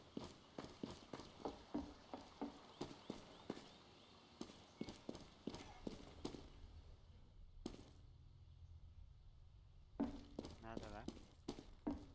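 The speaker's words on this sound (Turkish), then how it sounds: "Ayak sesleri var." Footsteps in Counter-Strike: Global Offensive, a run of sharp regular step thuds in the game, pausing briefly and then resuming, close and fairly loud over low background sound.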